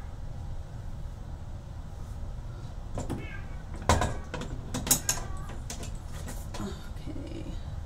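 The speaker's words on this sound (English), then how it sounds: "That cat acts like he's being tortured." A cat meows a few times in a home setting, heard faintly among clattering mechanical and cupboard-like knocks over a steady low hum.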